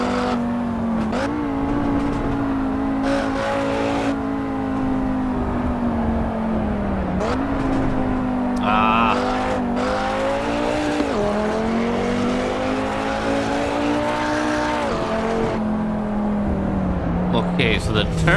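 Audi RS3 Sportback engine in the Assetto Corsa Evo racing game, a steady loud drone rising and dipping with throttle, with tire squeal and brief gear-change dips throughout as a voice talks over it.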